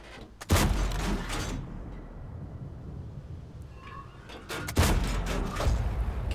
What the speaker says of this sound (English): Couple of shots there where he was.